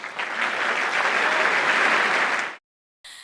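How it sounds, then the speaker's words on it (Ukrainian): A large audience at the Eurovision Song Contest 2024 semi-final applauds as a performer is introduced: dense, steady clapping for about two and a half seconds, then an abrupt cut to silence and a brief burst of sound. "Оплески мої любі."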